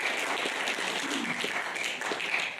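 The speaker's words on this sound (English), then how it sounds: "So I just want to give you a round of applause." Audience applause at a public Q&A session on mental health system analysis, a steady wash of clapping from a small-to-medium crowd at moderate loudness, sustained evenly throughout without voices on top.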